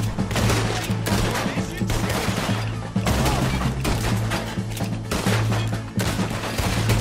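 Repeated gunshots in Red Dead Redemption 2 during a train robbery, loud sharp blasts in quick succession with short pauses between volleys and a steady low hum underneath.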